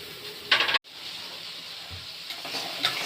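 Onion and garlic going into oil in a wok, a brief loud hiss of frying near the start, then a quieter steady sizzle with faint stirring.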